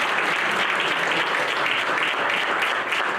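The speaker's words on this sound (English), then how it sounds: "give them a standing ovation. Round of applause for these young men." A room at a school board meeting breaks into a standing ovation, dense sustained applause from many hands, loud and continuous throughout with no pauses.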